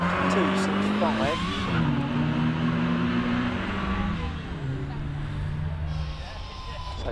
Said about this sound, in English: Justin Mather leaves the line